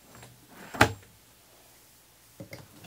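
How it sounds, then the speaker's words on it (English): A small drawer in a 2006 Itasca Horizon 40KD motorhome opens or closes with one sharp, close clack, followed a moment later by a softer pair of knocks in a quiet interior. "another little drawer here"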